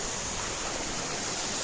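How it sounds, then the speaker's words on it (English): A waterfall in Embu County, Kenya, pours with a steady broadband hiss and rush, even and continuous throughout, no voices over it. "So this is the super waterfall"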